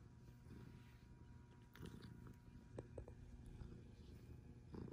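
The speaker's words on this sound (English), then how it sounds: "He's purring." A Persian cat purrs softly at close range, a quiet, continuous low rumble with a few faint clicks and rustles on top.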